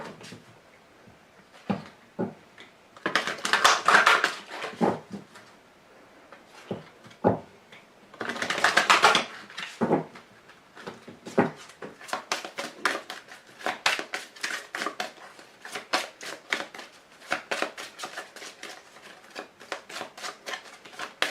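Tarot cards are shuffled and drawn by hand, producing bursts of papery riffling interspersed with sharp individual snaps and taps, close and fairly quiet with no talking.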